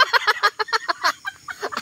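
A chicken clucks in a quick run of short, close, fairly faint calls, with no talk over it.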